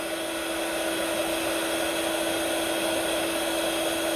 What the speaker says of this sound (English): Now you want to get your heat gun, so it's going to be a little bit loud.